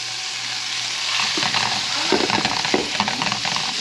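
Hamburgers and cheeseburgers fry in a pan with a steady close sizzle, broken in the second half by scraping and stirring knocks as the patties are moved.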